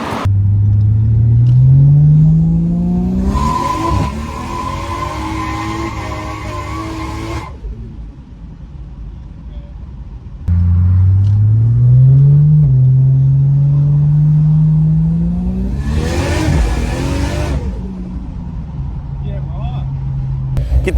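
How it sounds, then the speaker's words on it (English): Cars are driven hard in two runs, each engine revving up through rising gears with loud, close rumbling and climbing pitch, then a burst of tire and wind noise before easing off. "I'm gonna be putting some clips of each car that I mentioned today, giving it a rip"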